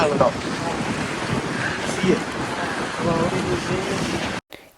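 Strong, cold wind on a hilltop near a fort buffeting the microphone in a continuous, rushing roar, with faint indistinct sounds underneath, cutting off abruptly near the end.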